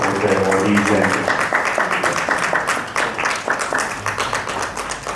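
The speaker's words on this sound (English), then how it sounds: "a round of applause for the awardees" An audience at a wildlife award ceremony applauding award winners, a dense, sustained clapping that stays loud throughout and fades slightly toward the end.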